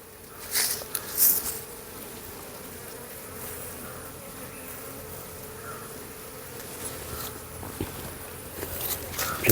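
Honey bees buzzing around an opened wooden hive box during honey harvesting, a steady close drone with a few louder passes near the start and faint handling noises.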